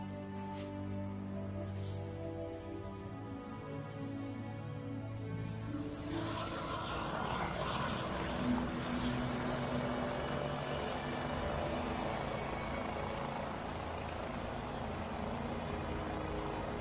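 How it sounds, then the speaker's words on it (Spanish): A helicopter runs steadily and loudly throughout, a continuous rotor and engine roar that thickens after the first few seconds, with no talk over it. "Estamos llevando a Bergland al helicóptero."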